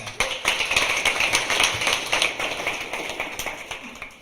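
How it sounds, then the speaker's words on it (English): Applause from a crowd, a steady wash of many hands clapping that holds for several seconds and slowly tapers off. "Let's get a round of applause for Ben."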